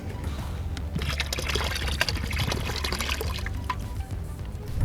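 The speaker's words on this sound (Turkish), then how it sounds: "Ve şimdi de bu suyu da boşaltacağız." Coolant draining out of a motorcycle radiator, a steady trickling pour of liquid with small splashes and drips, continuous and close, no talking.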